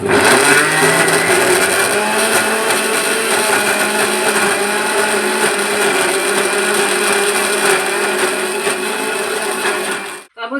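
A mixer grinder crushes green chillies, turmeric, coriander-cumin powder and other spices for dudhi and rava dhokla batter, running as a loud, constant whirring grind that cuts off abruptly near the end.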